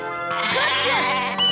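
A single drawn-out sheep bleat in a cartoon farm scene, close and clear with a wavering pitch over a music bed.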